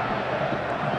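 Stadium crowd in a PES 2021 football match between Atletico Madrid and Chelsea, a steady broad roar of spectators swelling in approval, continuous and moderately loud with no distinct voices standing out.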